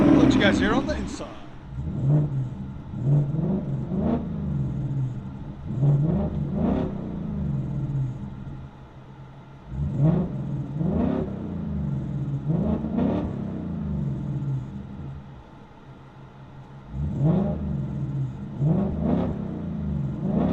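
A 2024 Ford Mustang GT 5.0L V8 with a Corsa Double Helix exhaust and muffler delete, heard from inside the car, is revved in a series of sharp, repeated blips that rise and fall, loud and near.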